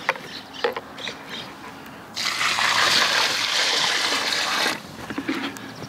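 Water poured from a bucket onto the roots of a transplanted golden chain tree, a steady splashing gush for about two and a half seconds between quieter trickles and small outdoor knocks, with a bird faintly in the background.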